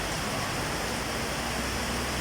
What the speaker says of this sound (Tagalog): Ang lakas po ng ulan dito po sa Tupi.